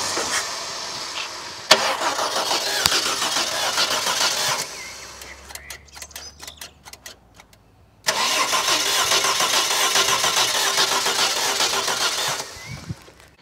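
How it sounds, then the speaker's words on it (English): Ford XF Falcon engine cranking with no fuel: two long stretches of steady whirring starter cranking that never catches, separated by a quieter pause with a few clicks and knocks, close and loud with no talk. "I'm gonna try and turn it over now with no fuel in it."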